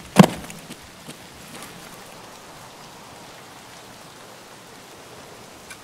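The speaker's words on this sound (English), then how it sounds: "It's very loud in my ear hole, the rain." Rain falling in the Escape from Tarkov video game, a steady soft wash of drops heard alone, with a brief louder crackle near the start and faint scattered taps afterward.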